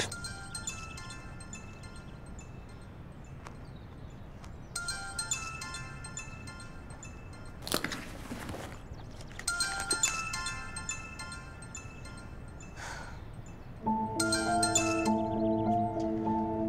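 A mobile phone rings in a Turkish drama scene, its electronic tone repeating in bursts with short pauses between, heard indoors at moderate volume with faint clinks in the background.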